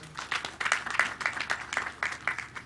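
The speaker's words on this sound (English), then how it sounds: "let's give a big hand of clap to our guest of honor" Audience applause for the guest of honor at a Kenya Utalii College graduation ceremony, a steady wash of many hands clapping at moderate distance that carries on throughout without any talk over it.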